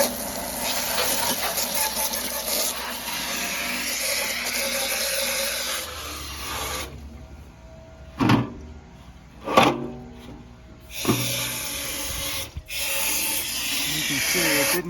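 Water spray rinsing dirt off an HVAC blower, a steady loud hiss that cuts out twice and returns, with a few short knocks and handling sounds in the gap.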